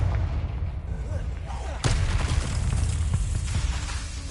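In Hogwarts Legacy, a Confringo explosive spell bursts with a sudden sharp blast midway, then rumbles on beneath steady game ambience.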